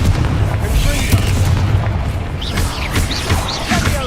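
Spell blasts in the Hogwarts Legacy video game, a Confringo fiery bolt amid loud rumbling booms and bursts of combat noise, with continuous layered impacts throughout and a voice speaking over the fight.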